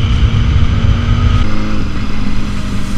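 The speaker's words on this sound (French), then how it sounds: "c'est vraiment le son que fait le moteur quoi. L'échappement haut donne bien dans les oreilles." A 2008 Kawasaki ZX6R sport motorcycle with a high-mounted exhaust roars close by, a loud, sustained engine drone that shifts slightly in pitch partway through.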